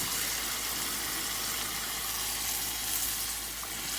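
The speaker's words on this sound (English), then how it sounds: "We're going to stir that around and get it mixed into our meat." Stewed tomatoes and tomato sauce being stirred into cooking meat in a pan for lasagna, a dense, loud, continuous hiss and sizzle, close up.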